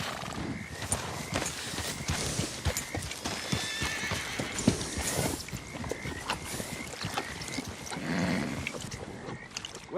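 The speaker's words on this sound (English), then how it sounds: "let's get this horse back to the stables" A horse's hooves clop continuously at a brisk pace amid busy background noise in the video game Red Dead Redemption, with a whinny rising briefly partway through.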